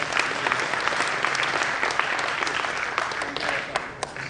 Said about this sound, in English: I can see the high table is clapping more than the mass.